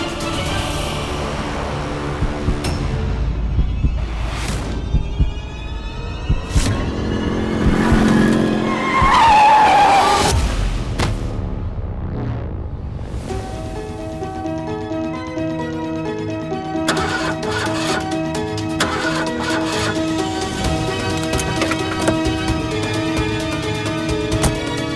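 A car driven recklessly fast, with engine roar and tire skids and squeals, loud and close, then a swelling passage of dramatic music.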